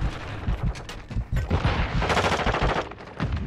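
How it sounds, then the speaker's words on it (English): Rapid automatic fire from an M4 rifle in Call of Duty: Modern Warfare 2 rattles loudly and continuously, dense overlapping bursts and booms filling the whole stretch with no talk. "shooting at everything and anything I can right now"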